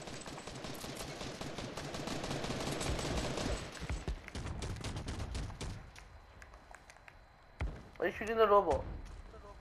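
Rapid gunfire from several players shooting at a robot in a shooter video game, bursts of shots over the first six seconds, fading out, then a voice speaking near the end.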